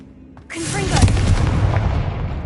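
Confringo explosion spell cast in Hogwarts Legacy: a sharp magical onset swelling into a loud, sustained booming blast with crackling debris that slowly fades.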